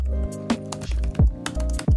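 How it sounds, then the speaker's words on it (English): Keys on a laptop keyboard are typed close by in quick irregular taps and clicks, with short pauses between bursts over a low steady hum. "Typing things."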